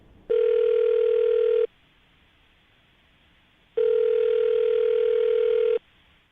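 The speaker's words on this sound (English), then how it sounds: "I'm about to dial Terrence's phone number" Two long bursts of ringback tone from a telephone call to a man's number, each a steady buzzing ring lasting one to two seconds, separated by a quiet gap, clear and alone.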